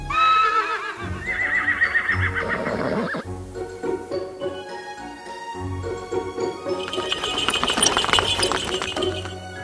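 Horses whinny several times over clopping hooves and jingling tack, close and lively, with no voices.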